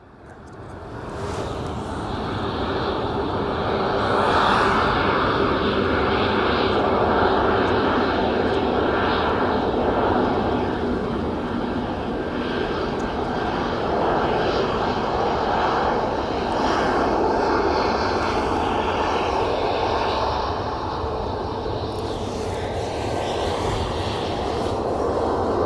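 A Ryanair jet airliner at Edinburgh Airport makes a loud, sustained engine roar with whining tones. It swells and holds for a long stretch, close and continuous, then eases slightly toward the end.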